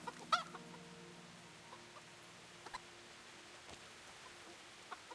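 A chicken in the medieval role-playing game Kingdom Come: Deliverance gives a short cluck early on, followed by a few faint clicks over a quiet, steady background.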